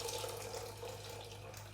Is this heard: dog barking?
no